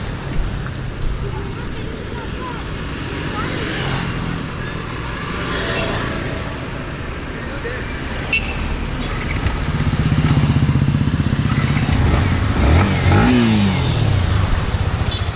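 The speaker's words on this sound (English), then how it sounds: "So let me start this bike and see the exhaust note." A Yamaha MT-15 motorcycle engine idles in the background, then rumbles louder as it revs up, with background voices and ambient noise.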